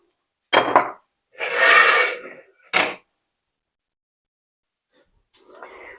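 Dishes clink and scrape as food is served onto plates, a few short clattering bursts with quiet pauses between them.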